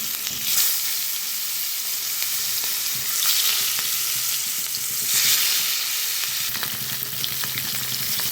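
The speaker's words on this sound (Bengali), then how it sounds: "এখানে তেলটা গরম হয়ে গিয়ে মাছটা দিয়ে দেব।" Fish rubbed with turmeric and salt fries in hot oil, producing a loud, continuous close sizzle with a dense bubbling hiss that swells and ebbs across several seconds.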